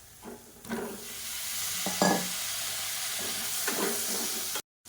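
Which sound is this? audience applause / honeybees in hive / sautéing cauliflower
sautéing cauliflower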